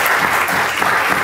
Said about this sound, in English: Please a round of applause for Emily.